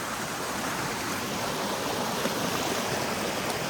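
Water bubbles and rushes continuously while someone is in the water, a dense, steady hiss and gurgle that stays even in level from start to finish, close by and with no talking.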